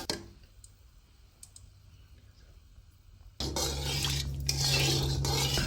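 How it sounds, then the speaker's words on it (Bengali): Deep-fried onions are lifted out of hot oil with a spoon while making chicken biryani. Faint metallic clicks and scrapes give way to a sudden loud, steady sizzle of frying close by. "এখন এগুলো একটা চামচ দিয়ে উঠিয়ে নিচ্ছে।"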